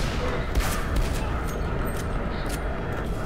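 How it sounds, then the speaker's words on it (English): Gunfire in the shooter SiN Episodes: Emergence, a dense crackle of shots layered over a loud, busy game soundscape, with a few sharper bursts standing out and people talking over it. "Why are you shooting me?"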